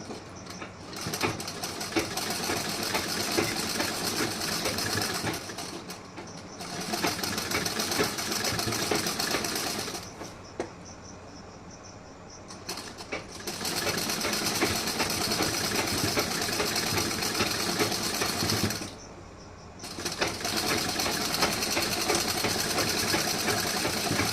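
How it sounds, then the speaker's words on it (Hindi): A sewing machine runs a double line of stitching on a blouse with lace, humming steadily at close range in long bursts separated by two short pauses, with no one talking. "यहाँ पे हमें ध्यान रखना है कि डबल सिलाई लगा देनी है"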